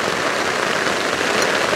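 Heavy downpour at a campsite during a solo camping trip, a dense, steady roar of rain hitting surfaces close by, unbroken and loud throughout with no voices.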